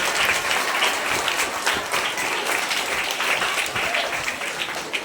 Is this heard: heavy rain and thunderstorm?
no